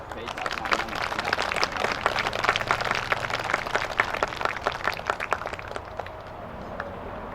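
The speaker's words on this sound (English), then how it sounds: "I want you guys to give them a hand of applause." An audience claps for visiting senators at a community gathering, a dense steady burst of applause lasting several seconds before tapering off, fairly close and lively.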